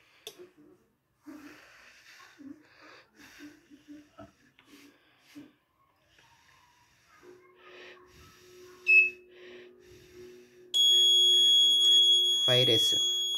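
A loud, continuous electronic alarm tone from the buzzer of an Arduino IoT industrial fault-monitoring circuit sounds steadily for several seconds after some quiet handling noises and brief speech.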